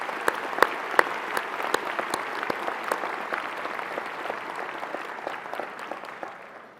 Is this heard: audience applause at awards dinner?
yes